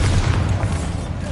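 Bombarda explosion spell going off in Hogwarts Legacy, a short, loud, continuous deep boom with rumbling low end and crackling debris, no talking over it.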